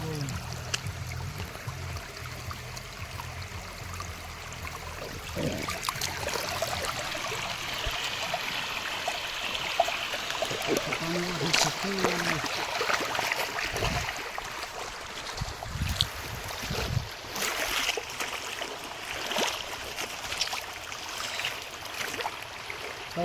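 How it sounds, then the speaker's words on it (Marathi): Floodwater after a cloudburst at Pimpri Dukari in Jalna district rushes in a continuous low wash, fairly faint and distant, with a few scattered knocks and splashes. "डब डब डब डब पाणी झालं सगळं इकडे तिकडे"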